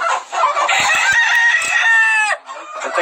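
A fighting rooster lets out one loud, close crow that holds for about two seconds. It follows a brief opening call, and a faint rustle comes after.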